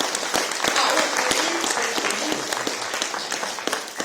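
A room applauds two volunteers at an International Volunteer Day gathering in Znamianka: dense, steady clapping from many hands, loud and close, holding for about four seconds.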